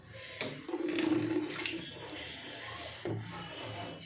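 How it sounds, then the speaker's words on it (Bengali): Hands are washed under a running kitchen tap, water splashing and gurgling into a sink in two short bursts with a quieter gap between them, close and fairly soft. "হাতটা ধুয়ে নিই"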